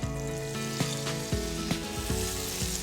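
A crepe sizzles in a buttered pan while a crepe cake is being made. The frying hiss is steady and close, broken by a few sharp clinks and taps.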